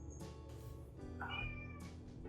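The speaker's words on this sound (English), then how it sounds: "you meow constantly" A cat meows several times in short, fairly faint calls, alone in a quiet indoor space with no talking.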